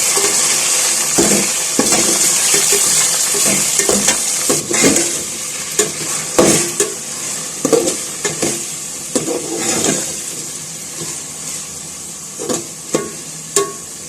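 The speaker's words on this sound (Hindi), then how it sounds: "अब इसमें चिकन डाल लूँगी। चिकन को भी फ्राई कर लूँगी।" Boneless chicken frying in a pan with browned onions, a steady loud sizzle with repeated spoon scrapes and stirring clatter throughout, no voices.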